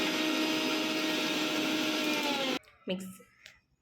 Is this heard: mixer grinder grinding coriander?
yes